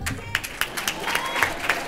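Brief burst of audience clapping at a university awards ceremony, quick irregular claps from a modest crowd in a hall, with voices faintly mixed in.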